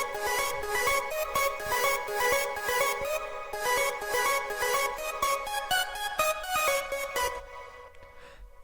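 Bright lead synth melody from an electronic song, loud and up close, with repeated rhythmic stabs and sustained harmonic notes that cut off abruptly near the end, leaving a near-silent tail.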